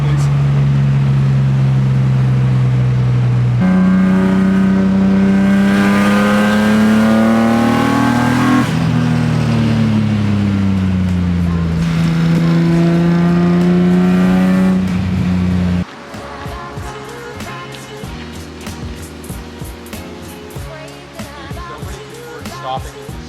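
An S54-swapped BMW E30 pulls hard along a scenic road, its straight-six climbing through long rising revs with gear changes, loud and close from inside the car. It then settles into a lower, rougher idle-like drone.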